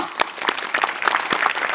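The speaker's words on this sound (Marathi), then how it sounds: "टाळ्या टाळ्या" A short burst of audience applause on a comedy show, with many hands clapping together in quick, scattered rhythm, fairly close and loud.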